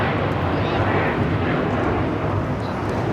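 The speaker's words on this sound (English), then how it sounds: "61 taking off to Tokyo Narita on the 787-9 Dreamliner" Japan Airlines Boeing 787-9 Dreamliner taking off from Los Angeles, a dense continuous jet engine roar, loud and steady throughout, with no pauses.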